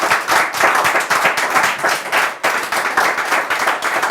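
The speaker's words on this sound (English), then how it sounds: "I expected an applause." An audience applauds with dense, sustained clapping, loud and continuous with slight swells, no speech over it.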